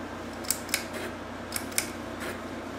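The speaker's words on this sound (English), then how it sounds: "This one's a piece of junk because you can hear that clicking." A Hampton Bay ceiling fan running on speed three ticks with sharp, irregular clicks, about five over a few seconds, above a steady low hum.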